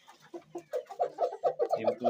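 Laying hens cluck repeatedly on a running egg-laying chicken farm, a steady rhythmic series of close, fairly loud clucks with no talk over them.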